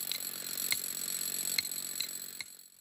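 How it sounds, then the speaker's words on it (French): Hammer blows ring out while a circus tent goes up in New Caledonia: about five sharp metallic strikes at an uneven pace, moderately distant, over a steady background hum. "Ici, les premiers coups de marteau se font entendre."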